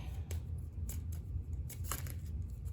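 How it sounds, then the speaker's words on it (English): Tarot cards from an antique anatomy deck are shuffled, producing a quiet series of crisp riffling snaps and flicks over a steady low background hum, with no talking. "from the Antique Anatomy Tarot, let's shuffle out a message"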